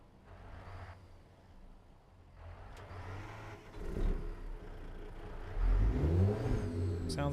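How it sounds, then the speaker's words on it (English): Freightliner truck engine revving in a truck driving video game, a low droning rumble that rises and swells in surges, fairly quiet and alone without talk. "I want to see how much it changed the sound of the truck"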